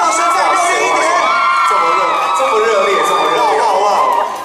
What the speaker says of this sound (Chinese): 欢迎， 掌声再热烈一点